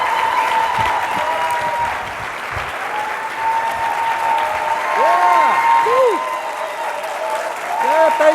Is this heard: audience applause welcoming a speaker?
yes